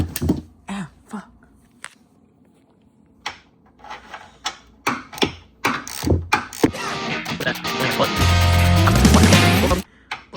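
A socket wrench ratchets a bolt on the bash bar of an FRS drift car: a quick run of close, dense metallic clicking near the end, after scattered knocks and handling sounds.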